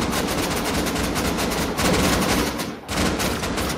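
Sustained automatic AK rifle fire in the survival game Rust, loud and continuous with a brief dip near the end before the burst picks up again.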